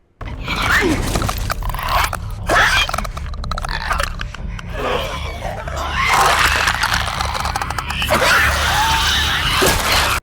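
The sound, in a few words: zombie wheezing in video game The Last of Us Part II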